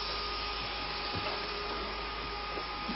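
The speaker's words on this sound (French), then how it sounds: "c'est un ventilateur électrique qui sert à aérer les chantiers" An electric ventilation fan airing a coal mine gallery gives off a constant loud broadband whoosh with a faint steady hum, unbroken and alone for the whole stretch.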